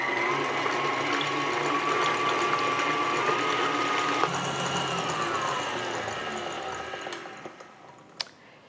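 An electric mixer whirs steadily for a long stretch while beating Black Forest cake batter, a constant motor drone close by that winds down and fades near the end, followed by a short knock.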